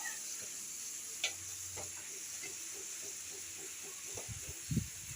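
A spoon stirs shrimps frying in butter in a pan under a soft steady sizzle, with a couple of brief scrapes and a low rumble near the end.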